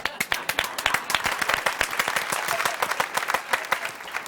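A studio audience claps in a dense, lively burst, with individual sharp claps standing out close to the microphone throughout.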